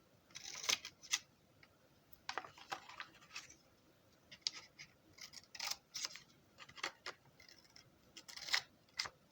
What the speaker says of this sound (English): I'm going to cut the corners of this box.